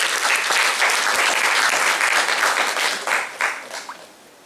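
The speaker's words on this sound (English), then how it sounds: "A big round of applause for the PSG Chamber of Commerce." Audience at an India-ASEAN business summit breaking into loud, sustained applause from a large crowd, with dense clapping that begins to thin and fade toward the end.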